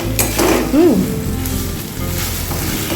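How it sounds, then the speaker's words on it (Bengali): Fish frying in hot oil for a Bengali recipe, a loud, dense close-up sizzle that holds steady throughout, with a brief squeak of movement near the start. "এইভাবে এটা ভাজবো।"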